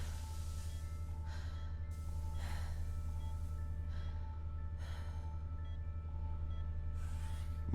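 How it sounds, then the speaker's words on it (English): Heavy, slow breathing in The Turing Test, with four or five distinct gasping breaths spaced a couple of seconds apart over a steady low background hum, close and soft. "Heavy breathing."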